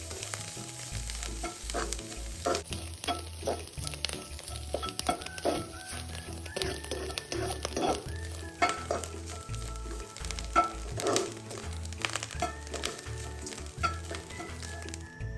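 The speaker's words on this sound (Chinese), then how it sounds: "将所有食材一直拌炒至溢出香气。" Minced garlic and other ingredients stir-fry in a wok for red peach kueh, with a continuous sizzle and frequent rhythmic scrapes and clinks of the spatula.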